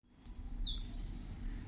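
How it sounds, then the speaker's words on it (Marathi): A single short high bird call in a garden, one bright chirp rising and falling, moderately near over a low rumbling background. "हा पक्षी खूप ओरडतोय"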